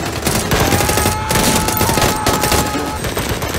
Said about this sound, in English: I just feel like if you're going to put gunshots in a show like this